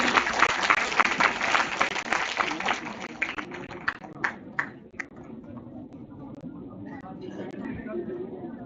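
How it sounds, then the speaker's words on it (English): Applause from an audience at a college management-studies event in Kanpur, welcoming a guest: dense clapping for about three seconds, then thinning to scattered claps as murmuring voices and room noise continue. "Please put a huge round of applause for him."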